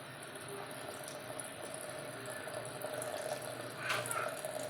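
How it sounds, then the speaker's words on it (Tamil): Dissolved jaggery water is poured into a cooking pot in a home kitchen, making a steady close splashing pour that grows slightly louder toward the end. "இப்போ நம்ம கரைச்சி வச்சுருக்கிற இந்த வெள்ளத்தை வந்து இல்லை ஜலத்தை சேர்த்துக்கலாம்."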